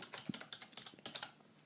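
Light, quick typing on a computer keyboard while entering text into a spreadsheet, a short close run of soft key clicks with no voices.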